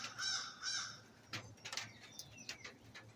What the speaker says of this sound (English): That sounds like a raven or a crow. Yeah, it's a crow.